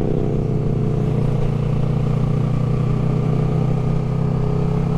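A loud motorcycle engine drones steadily and close, a continuous low rumble with a constant level throughout and no pauses or voices.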